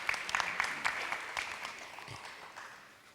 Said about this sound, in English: Another big round of applause to them,